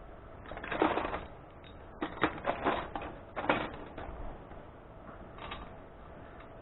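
Ratchet socket wrench working a nut off a bicycle engine kit during assembly, giving quiet bursts of rapid mechanical clicking in several short runs separated by pauses.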